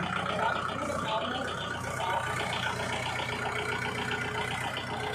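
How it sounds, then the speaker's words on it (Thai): A farm tractor's engine runs through a test drive, a steady mid-pitched rattling drone with a metallic clatter that holds even for about five seconds, close and moderately loud. "ลุงก็ได้ทดลองขับรถไถ"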